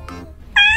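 A cat gives a single short, clear meow at the very end, close and loud, after a faint brief chirp-like sound.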